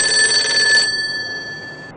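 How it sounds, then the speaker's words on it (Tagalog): A telephone rings in an office setting with bright, steady ringing tones that cut off abruptly partway through, leaving a fainter lingering ring and a quiet room, with no voices present. "Pero ilang segundo lang tumunog ulit ang telepono."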